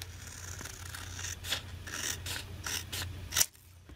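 Top edge of a paper envelope being trimmed, heard as a close series of short rasping cuts in an uneven rhythm, ending with one louder snip.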